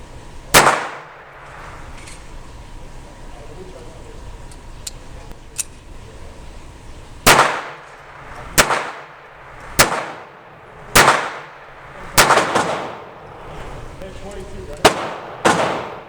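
A Jennings J-22 pistol fires about eight loud, sharp shots, one early and then a rapid-ish series spaced roughly a second apart, each with a brief ringing tail outdoors.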